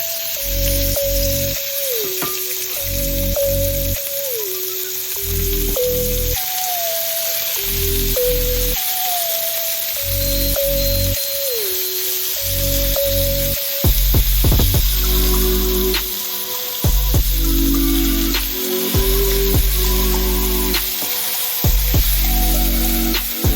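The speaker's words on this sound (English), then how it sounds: "now we're just gonna go ahead and get our steak in the pan" Steak for a Philly cheesesteak sizzles steadily in a frying pan, a loud, continuous hiss that grows busier partway through, with a stepped musical backing playing throughout.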